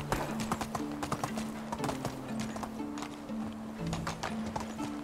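Horses clip-clop steadily on the ground in the medieval village life game Medieval Dynasty, hooves landing in a busy overlapping rhythm at moderate distance over a low in-game ambient tone, with a faint neigh.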